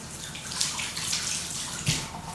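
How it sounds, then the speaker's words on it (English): Hands being rinsed under a running kitchen tap, a steady close splash and hiss of water with a couple of brief louder splashes. "Just rinsing my hands there."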